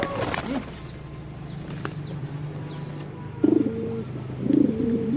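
Crested domestic pigeons give a few soft, throaty coos near the end, with light wing flutters and faint chirps over a quiet outdoor background.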